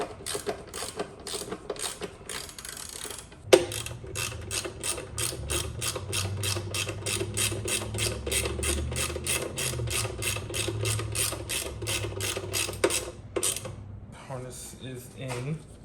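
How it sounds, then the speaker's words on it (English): Ratchet wrench clicking rapidly while tightening bolts on an Integra GSR engine during reassembly, with long runs of close, steady ratcheting strokes broken by brief pauses. "I'm gonna use a ratchet for most of the reassembly"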